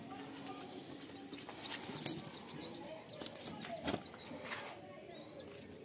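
Pigeons beat their wings as they are let go, a flurry of flapping with soft coos and bird calls outdoors, over a steady background hum.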